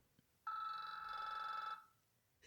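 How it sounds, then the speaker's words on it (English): A single sustained electronic ring tone from The Matrix, bright and steady, lasting about a second and a half before cutting off in a quiet room. "This is my ringtone."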